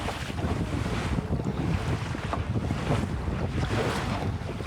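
A sailboat racing in the R2AK moves under wind on open water, with a continuous rush of wind noise on the microphone and waves washing against the hull, no talking.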